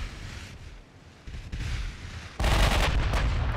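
Warship main guns fire in the naval battle game Ultimate Admiral Dreadnoughts, a booming salvo that swells from a muffled rumble into a loud, broad blast near the end.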